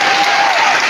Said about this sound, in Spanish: Fuerte aplauso para nuestro amigo.